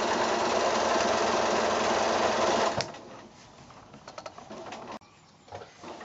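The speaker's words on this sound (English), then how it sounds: "So just continue sewing all the way around now." Sewing machine stitching around a quilted shoulder bag strap, a loud, fast steady whir for nearly three seconds that stops abruptly, followed by quiet handling clicks and fabric shuffling.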